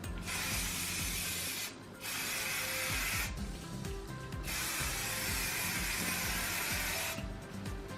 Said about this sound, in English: So I make sure I cover all the hair with the finishing spray.